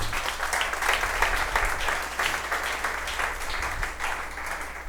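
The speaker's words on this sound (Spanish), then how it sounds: "Bríndale un aplauso al Señor." Church congregation applauding during a Spanish-language evangelism class, dense continuous clapping from many people, steady and fairly close throughout.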